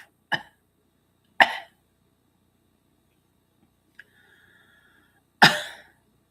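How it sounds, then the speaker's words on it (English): Three sharp, loud coughs spaced a second or more apart, with a short faint tonal sound in between and silence otherwise. "Cough."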